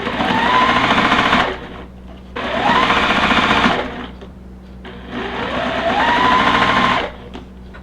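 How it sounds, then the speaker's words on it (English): Sewing machine stitching quilt block pieces in three loud bursts of rapid mechanical whirring, each run a couple of seconds long, separated by short quiet pauses. "Now we're going to sew a C onto the bottom of them."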